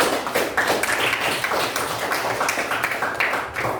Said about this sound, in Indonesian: Tepuk tangan lagi buat kita semua.